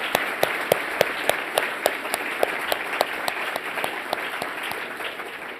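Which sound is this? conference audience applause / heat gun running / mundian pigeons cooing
conference audience applause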